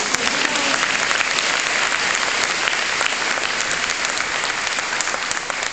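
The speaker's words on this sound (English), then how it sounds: "yes, let's applaud for that" Sustained audience applause at a political rally, loud dense clapping filling the space steadily for several seconds with no speech over it.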